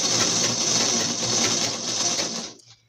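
A sewing machine stitches the fall onto a saree in a fast, steady whirring run up close, then slows and stops.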